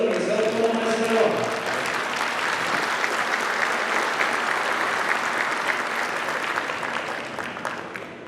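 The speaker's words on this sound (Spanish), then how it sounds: "Demos un fuerte aplauso" An indoor audience at an agricultural science conference claps to welcome a speaker, a sustained dense round of applause that fades slightly toward the end. Faint voices are heard briefly at the start.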